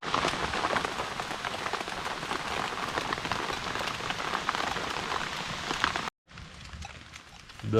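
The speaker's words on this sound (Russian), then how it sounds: "И опять пошел дождь." Steady rain pours on a forest bushcraft camp at night beside a campfire, a dense close patter on surfaces that stops abruptly for a moment, then resumes more softly.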